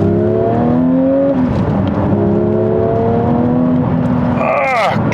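A Porsche 992 GT3 engine revs and climbs through the gears, loud harmonic tones rising and dropping with each shift, ending in a sharp high whine near the end.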